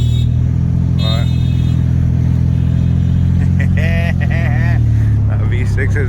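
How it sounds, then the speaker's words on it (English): A V6 engine in an old Ford OBS pickup truck idles loud and steady at close range, a deep continuous rumble under a voice speaking over it. "V6 is running, you guys."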